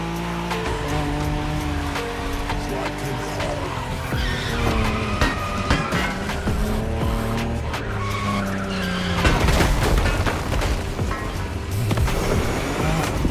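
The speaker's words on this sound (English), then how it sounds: "When you manage to drift this bulky bodywork, it's just magic." Bulky car drifting in the video game The Crew Motorfest, loud sustained tire squeal over a revving engine, with a sharp surge of screeching skids near the end.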